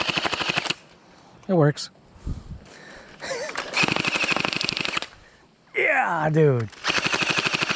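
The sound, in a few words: gunshots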